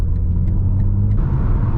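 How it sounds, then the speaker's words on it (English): 2021 BMW G80 M3 Competition while driving: a steady low engine rumble with a few soft exhaust burble pops, close and fairly loud, with a brief throttle change near the end. "there's some slight burbles from the exhaust also"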